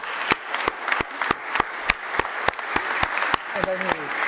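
Sustained applause from an audience at a 2021 NATO Centres of Excellence directors' conference, steady dense clapping with some sharper claps standing out, while a voice talks over it near the end.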